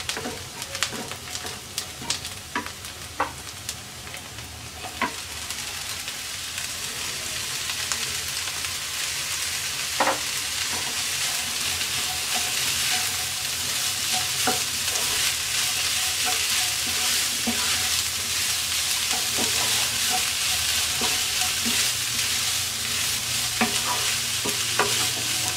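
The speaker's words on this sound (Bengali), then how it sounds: "এবার দিয়ে দিচ্ছি ব্রকলি কুচি," Chopped broccoli frying with onions and chopped green chilies in a pan, a steady dense sizzle running throughout with frequent scraping stir clicks, close and fairly loud, no voices.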